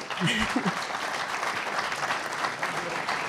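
After Nathalie Delattre's speech at the 2019 Mouvement Radical congress, the hall breaks into dense, sustained applause from a large audience, with a few voices rising briefly near the start amid the clapping.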